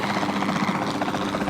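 Helicopter in a video game, with a steady, loud, fluttering rotor chop pulsing throughout the brief moment and no talk over it.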